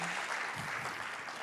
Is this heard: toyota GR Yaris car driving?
no